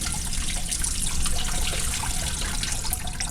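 Water spurts steadily from holes in a container, a continuous close splashing and trickling stream with no pauses and no talk.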